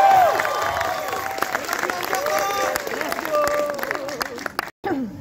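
Crowd at an Indonesian horror film press conference applauding and cheering, a lively wash of clapping and voices with shrill whoops rising and falling, cut by a brief dropout near the end.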